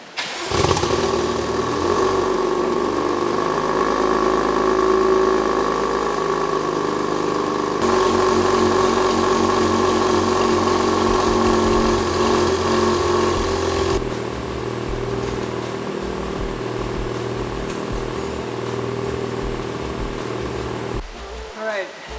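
BMW F82 M4 fitted with a Remus exhaust and equal-length midpipe, cold-started and settling into a steady, loud idle that shifts in tone partway through, a continuous close engine drone throughout.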